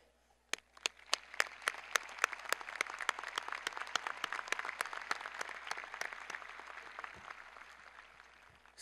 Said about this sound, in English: Please join me in a much-deserved collective applause of thanks.